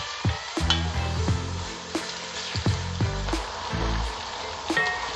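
Spinach stew simmering and sizzling in a pot, with steady frying crackle broken by repeated spoon stirs and clinks against the pot, close and fairly loud.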